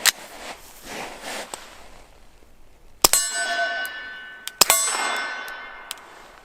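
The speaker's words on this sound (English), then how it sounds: "We got that crack going." Two sharp cracks of supersonic rounds from a pistol with a Liberty Mystic suppressor, spaced a few seconds apart, each followed by a bright metallic ringing that lingers and fades, with faint rustling between shots.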